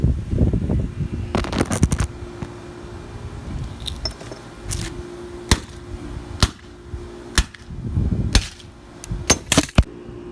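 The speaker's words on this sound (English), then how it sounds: "you could start axing it or hammering it both at the same time" Repeated sharp metallic whacks and clanks, irregularly spaced, mixed with some scraping and rattling as a laptop hard drive is struck over and over with an axe and hammer.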